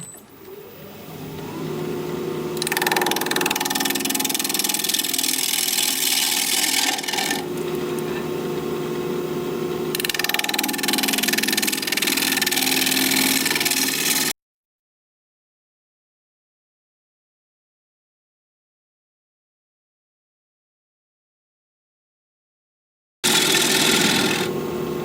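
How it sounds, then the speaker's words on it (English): A wood lathe spins a bowl at 1200 RPM while a 5/8 inch bowl gouge cuts it, giving a loud, continuous rasping whir that shifts in texture between passes, then drops to silence before the cutting resumes. "I'm going to be turning with a 5/8 inch bowl gouge, 1200 RPM"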